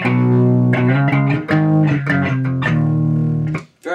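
A clean electric guitar through a 1960s Kingston tube amp plays a short run of ringing chords and notes, bright and full, the last chord left to sustain before fading.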